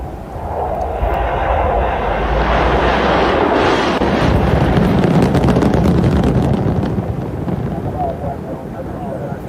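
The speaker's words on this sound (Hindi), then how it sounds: "ये मिसाइलें दागी गई हैं। कुल 5 मिसाइलें।" Iranian missiles launch one after another, heard as a loud, sustained roaring rumble mixed with heavy wind buffeting on the microphone.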